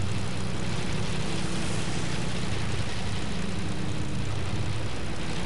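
A propeller airplane engine drones steadily and loudly throughout while flying in a video game, a continuous buzzing hum with no pauses.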